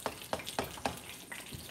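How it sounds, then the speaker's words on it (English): Chicken frying in a pan on a home stove, giving several crackling sizzle bursts at a steady rhythm, close by and fairly quiet, with no voices. "you might hear some frying"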